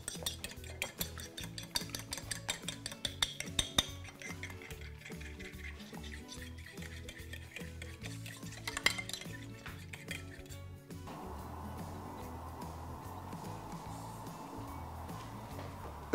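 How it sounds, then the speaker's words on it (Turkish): Eggs are beaten in a bowl with a fork or whisk, a quick rapid clinking and tapping against the bowl's sides, close and steady, changing to a softer swishing rhythm near the end. "Güzelce çırpalım."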